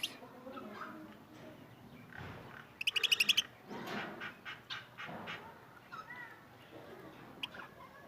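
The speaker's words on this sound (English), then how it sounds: "Very beautiful parrot, cute parrots" Australian parrots kept alongside hens and other fowl in Timergara, Pakistan, chirping in a quick burst of high, rapid tweets amid scattered calls and someone speaking softly nearby.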